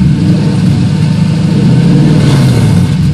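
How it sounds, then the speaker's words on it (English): A Nissan V8 engine swapped into a car idles high at about 1400 RPM, a steady, loud, continuous low rumble with no talk over it. "So inside we can see this is idling"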